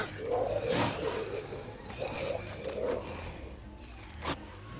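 A State of Decay 2 zombie bashes against a car's doors with a few dull, heavy thumps amid low growling and a rumbling engine, all fairly faint.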